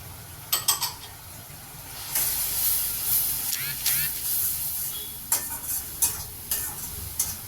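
Pirandai (adamant creeper) being sautéed in a pan with chili, coriander and turmeric powder for kulambu, giving a steady close sizzle and hiss with occasional stirring scrapes and clinks.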